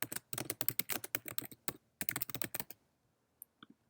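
Quick bursts of keystrokes on a computer keyboard as a title is entered, a steady run of close, crisp clicks for about two and a half seconds, then a pause and a couple of isolated taps.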